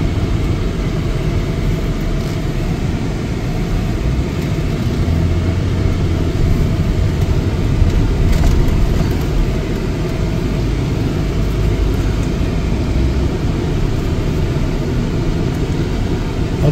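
Inside a 2016 Mercedes-Benz GLE350 4matic SUV on a test drive, a steady low road and engine rumble with broad cabin noise holds evenly for over fifteen seconds, with no one talking.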